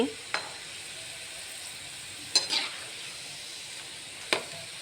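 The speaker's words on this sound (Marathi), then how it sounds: "तुम्ही बघू शकता आपली भेंडी किती छानपैकी मस्तपैकी छान तळली जाते" Okra (bhendi) frying in oil makes a soft, steady sizzle, broken by a few light clinks and stirs of a spoon in the pan, close and quiet with no talk.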